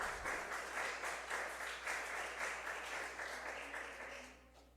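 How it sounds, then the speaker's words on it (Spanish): Church congregation applauding during a sermon, a warm, sustained wash of many hands clapping in a reverberant room, steady at first and then tapering off toward the end. "Denle ese aplauso a Jesucristo."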